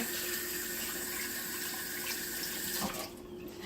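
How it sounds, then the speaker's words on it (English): Hands washed under a running kitchen tap, a loud steady stream splashing into a sink that stops abruptly near the end. "Let me wash my hands real quick."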